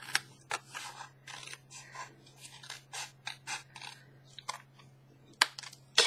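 Scissors snip through upcycled journal craft material up close, a string of sharp separate cuts with short pauses between them, a few louder snips near the end, against a faint low hum and no talk.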